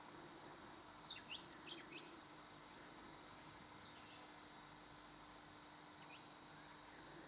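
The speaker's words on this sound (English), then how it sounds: "Have a listen to those birds singing, it's absolutely beautiful." Faint birdsong in the Grampians, Australia, with a few short chirps and calls over a steady background hiss, distant and sparse.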